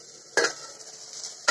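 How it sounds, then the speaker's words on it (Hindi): Puffed sorghum (chulai) is stirred in a hot pan, a metal spoon scraping and clinking against the pan twice, with a steady soft crackle of popping grains in between; close and moderately loud, no talking. "इसको हिलाते रहो हिलाते रहो।"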